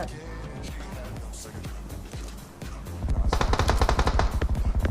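Rapid automatic gunfire in a battle royale shooter during a running headshot on an apartment rush, with scattered shots first, then a dense loud burst of fire near the end, under a talking player.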